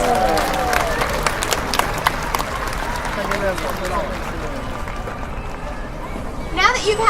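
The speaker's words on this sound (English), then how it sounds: "Let's give Orchid a big round of applause" Audience at a SeaWorld San Diego orca show applauds a killer whale named Orchid: crowd clapping and cheering swells then fades, with voices talking in the background and a splash-like burst at the end.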